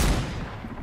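A shotgun fires once in Fortnite: a loud, close blast that fades over under a second.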